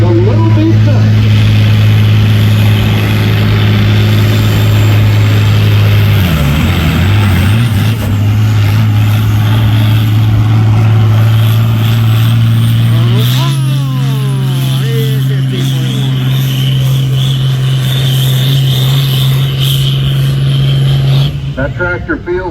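A pulling tractor's engine roars loudly and continuously at a tractor pull, its steady drone dipping briefly then stepping up to a higher pitch as it revs harder, with an announcer talking over it.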